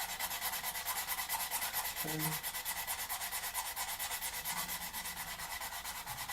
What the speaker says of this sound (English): So we're using a fine sanding stick